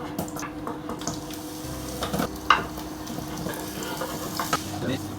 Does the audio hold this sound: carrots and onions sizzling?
yes